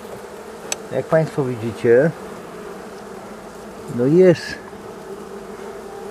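Honeybees hum constantly at an opened hive during a morning inspection, the steady buzz running beneath a man's speech that breaks in twice.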